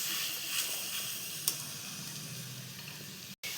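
Kochu greens with sugar fry in a pan while being stirred, a steady soft sizzle with a brief scrape of the spoon, close and quiet with no talk.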